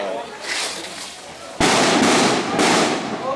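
Fireworks burst loudly nearby at a Khmer-style cremation ceremony in Surin, a sharp crackling explosion followed by another, over a noisy background of people talking.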